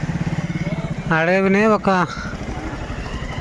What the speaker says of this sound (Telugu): ఎన్ని బైకులు ఉన్నాయిరా బాబు